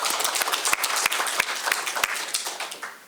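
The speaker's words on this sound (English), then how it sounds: "Let's give that a round of applause." A small press briefing crowd applauds the JSU Tigers' trip to the SWAC championship with sparse, distinct claps that thin toward the end.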